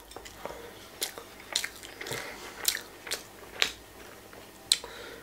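Someone bites into and chews a grilled sandwich close to the mic, with about a dozen sharp, crunchy bites and wet chewing sounds spread irregularly over a few seconds, no talking.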